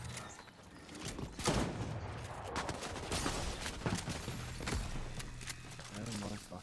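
Scattered gunshots in a Fortnite match, bursts of cracks at moderate distance mixed with game noise, partly under a man's speech.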